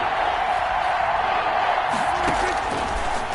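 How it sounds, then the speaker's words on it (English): A football video game crowd roars as a big third-down play approaches, a broad steady wash of cheering noise with a few whoops rising, while a commentator's voice talks over it. "the crowd getting into it as we come up on a big 3rd down"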